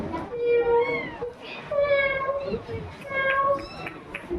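At a school cultural competition, someone imitates a kitten with several short, high, thin mews in quick succession, close and moderately loud.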